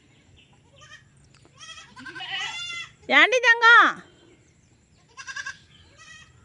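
Goats bleat on a farm with young kids nearby, several wavering cries rising and falling, one long loud bleat in the middle, with a voice talking between them.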